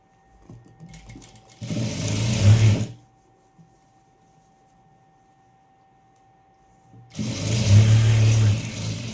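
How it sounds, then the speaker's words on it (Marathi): A sewing machine stitches a sleeve onto a readymade dress in two close, loud bursts of rapid whirring, each about a second or more long, separated by several seconds of near silence. "अशा प्रकारे आपल्याला इथं रेडीमेड ड्रेसची टिप मारून दाखवणार आहे मी आता"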